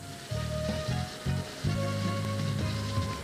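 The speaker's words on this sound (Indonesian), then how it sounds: "segera masukkan kroket, goreng hingga berubah warna" Chicken and cheese croquettes fry in hot oil with a steady, fairly quiet sizzle, with low pulsing tones and faint crackles over it and no talk.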